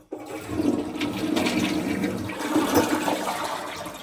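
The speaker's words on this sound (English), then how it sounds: "Toilet flushes." A hotel room toilet flushes close by, a sudden rushing gush of water that swells and then keeps churning steadily as the bowl drains and refills, with nobody speaking.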